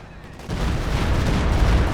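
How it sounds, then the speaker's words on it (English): A Stuka dive-bomber barrage in Company of Heroes 2 lands as a dense, loud roll of blasts and rumbling explosions. It swells suddenly after a quieter start and then keeps going without a break. "We have a Stuka barrage coming in."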